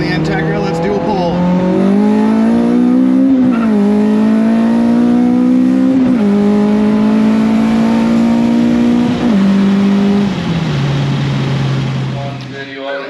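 A JDM-front Acura Integra with a K24 engine pulls hard through several gears, the engine note climbing loudly and dropping at each shift, heard close from inside the car.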